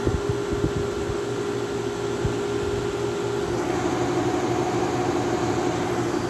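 A Westinghouse fan motor runs with a constant whirring hum and faint steady hiss, close and moderately quiet, with some low knocks at the start and no talk.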